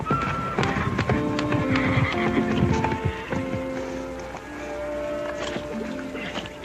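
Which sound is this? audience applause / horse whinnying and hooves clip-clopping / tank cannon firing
horse whinnying and hooves clip-clopping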